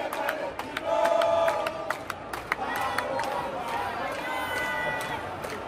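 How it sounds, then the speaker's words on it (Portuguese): Flamengo supporters pour into the Maracanã stadium before a match against Palestino, a dense crowd roar with shouts and chants rising and falling, scattered sharp claps and whistles, people talking nearby throughout. "Vai começar o jogo aqui no Maracanã, hein? A galera tá entrando."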